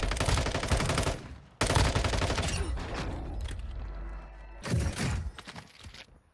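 Rapid bursts of automatic gunfire in Warzone Mobile, loud and close, with a lull in the middle before another heavy burst and a fading tail.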